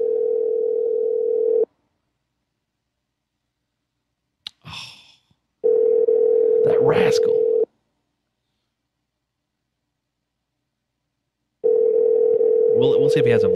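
A telephone ringback tone purrs in long steady bursts that go unanswered, separated by silent gaps, with a brief spoken remark in one gap and faint talk over the later rings.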